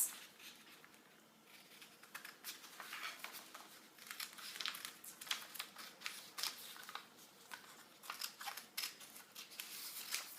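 Scissors snip across a sheet of paper while a bridal shower banner is being made, giving a quiet, steady run of crisp cutting clicks and light paper rustle, close by and with no talking.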